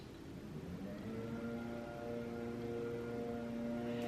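Faint, steady rain hiss with a lawn mower engine droning in the distance, humming continuously throughout.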